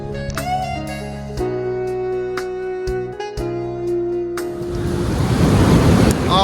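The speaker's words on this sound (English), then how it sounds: "this damn sea's too noisy" Sea waves crash loudly and steadily onto a beach in Baja, Mexico, with a constant roaring wash and a heavier surge building toward the end, mixed with some wind.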